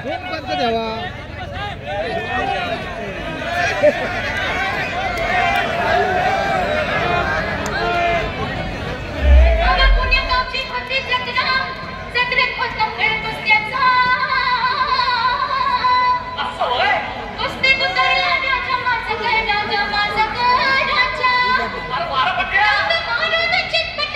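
Crowd chatter and commotion fill a village wrestling arena during a Maharashtra Kesari bout, a dense babble of many voices with a loudspeaker announcer talking over it and a brief low thump partway through.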